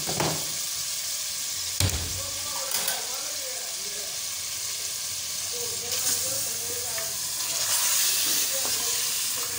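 Chicken with turmeric and spices roasting in a pan for a stuffed paratha filling, giving a steady sizzling hiss broken by a few sharp clatters and stirring scrapes, close up, with a voice speaking briefly.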